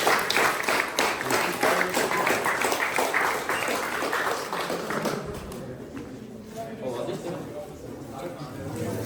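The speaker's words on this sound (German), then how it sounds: "mit diesen Klatschen bedanke ich mich für eure Aufmerksamkeit" A tour group applauding at the end of a Nuremberg Castle tour, a burst of many hands clapping close by that thins out and fades after a few seconds, with voices talking underneath.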